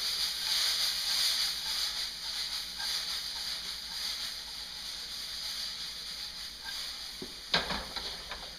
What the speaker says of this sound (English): Saute up the onions. Sauteed onions.